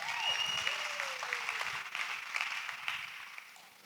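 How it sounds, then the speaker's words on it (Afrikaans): A church congregation claps for its worship team, steady broadband applause filling the room for about four seconds, with faint whistles or cheers riding on top and the clapping slowly tapering off. "Kom ons gee ons 'n worship team 'n lieflike hande klap."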